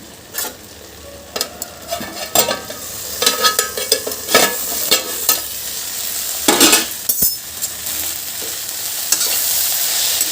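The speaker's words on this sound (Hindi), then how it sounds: "ये छोंक दी है मैंने भिंडी की सब्ज़ी।" Chopped okra sabzi sizzles and fries in a pan as it is tempered and stirred, with a continuous close frying hiss broken by scraping stirs and light utensil clinks, no talk.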